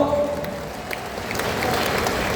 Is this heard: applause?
yes